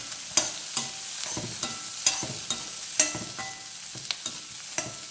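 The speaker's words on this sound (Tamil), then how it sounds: "எண்ணெயிலே வறுத்துடணும்." Small onions frying in oil while being stirred, a steady close sizzle punctuated by sharp scraping and clinking strokes of a spoon against the pan, about a dozen in irregular rhythm.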